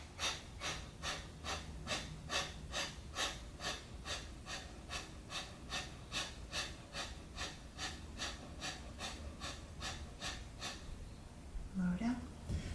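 Deep, steady breathing during an Ashtanga yoga pose, heard close and quiet as a regular series of short breath pulses, about two each second, that continue for most of the clip before a brief pause and one more breath.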